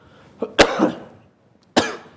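A man coughs sharply and close by, a small throat catch and then one harsh cough with a trailing rasp, and after a short pause one more loud cough.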